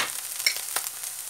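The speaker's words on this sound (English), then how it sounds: "we just want to fry these a little while" Food frying in a pan while moussaka is being made, giving a steady, close sizzle and crackle with a couple of brief louder spatters, and no talking.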